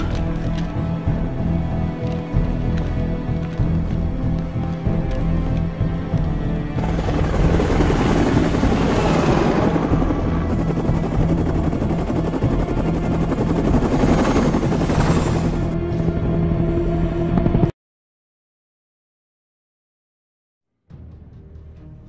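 Medevac helicopter in the Medal of Honor Warfighter video game, a steady loud rotor drone with swelling whooshing passes, continuous for most of the clip before cutting to brief silence and returning faintly.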